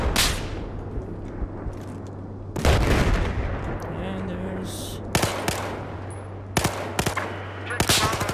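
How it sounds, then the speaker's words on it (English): Gunfire in Battlefield 4 multiplayer, a sniper rifle shot among loud sharp cracks that burst out at intervals over a steady game background hum, several other shots following close together. "Got one enemy with a sniper shot, put it right through his heart."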